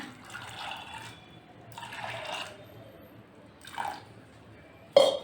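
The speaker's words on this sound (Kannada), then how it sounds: "ಬೇಯಷ್ಟು ನೀರು ಹಾಕೋಣ" Water pours into a pressure cooker holding soaked green gram in bursts of splashing and trickling, with a short sharp clatter at the very end.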